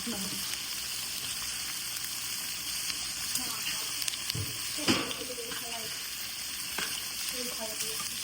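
Steady sizzle of bottle gourd skin frying in a pan, with occasional stirring clatter and faint background noise.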